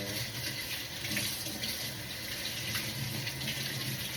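Kitchen tap runs steadily into a sink while dishes are washed in a home in America, a continuous close rush of water with faint clatter and no talking.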